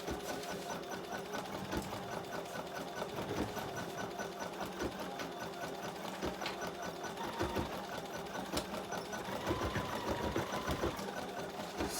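An embroidery machine stitches out a design, its needle mechanism whirring in a steady, rapid rhythm that keeps going throughout at a moderate, even level with no talking.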